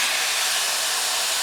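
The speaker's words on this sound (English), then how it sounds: "by opening up this valve, the air rushing, the higher pressure air in this room rushing to fill the vacuum tanks" High-pressure air rushes through an opened valve into vacuum tanks to drive a university supersonic wind tunnel, a loud, steady broadband hiss that stays constant and close with no talk over it.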